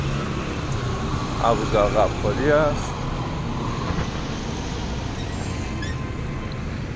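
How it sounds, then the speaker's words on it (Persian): Steady street traffic from cars leaving a boulevard in the Ahmadabad district of Mashhad, Iran, a constant mid-distance roadway hum while someone talks over it. "بلوار که الان ماشین دارن ازش میان بیرون"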